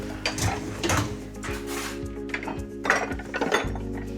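Cutlery is put away while a table is cleared at home, with scattered metallic clinks, clatters and drawer knocks, close by and irregular, over a low background hum.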